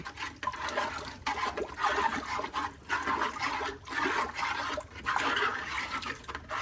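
Gravy mixture for roast beef and potatoes pours into a pan in a steady, splashing liquid stream that swells and dips over several seconds, close and fairly loud with no voices.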